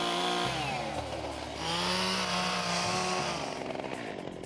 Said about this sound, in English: I'm not very comfortable with this chainsaw, Robert.